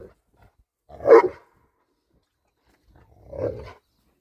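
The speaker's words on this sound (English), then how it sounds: "You girls don't even care about the dog bark, do you?" A dog barks twice during a mountain horse trail ride, two separate gruff, close woofs about two seconds apart against near silence.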